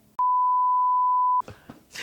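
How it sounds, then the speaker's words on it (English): A censor beep masking speech, one loud steady pure tone held a little over a second, followed by a few faint words of talk. "I just want it blurred over his mouth and just beeped."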